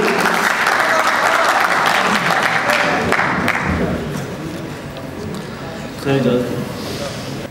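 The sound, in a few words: audience applause for poet Anjum Farooq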